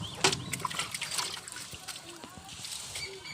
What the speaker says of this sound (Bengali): গাছগুলো জল দিতে দিন তো গাগুলো ঠান্ডা হয়